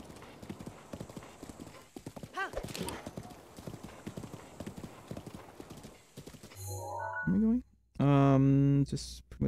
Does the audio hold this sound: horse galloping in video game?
yes